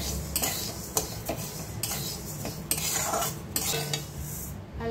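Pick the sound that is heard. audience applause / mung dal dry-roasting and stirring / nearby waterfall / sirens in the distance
mung dal dry-roasting and stirring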